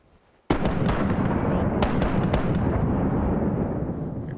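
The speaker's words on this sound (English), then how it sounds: "I love the cannon sounds." A ship's cannon broadside in the Mount & Blade video game booms out as one sudden loud blast that swells into a sustained roar, with a few sharp cracks layered over the rumble as it slowly fades.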